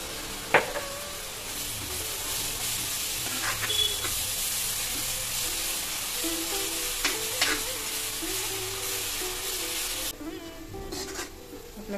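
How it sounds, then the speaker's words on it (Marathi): Onions sizzling in salted oil in a pan for Mumbai street-style pav bhaji: a steady, close frying hiss with occasional stirring clicks throughout, no voices. "थोडंसं आपण मीठ घालूया कांदा भाजण्याकरता"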